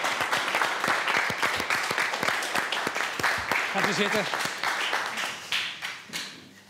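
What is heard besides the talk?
warm audience applause for the judge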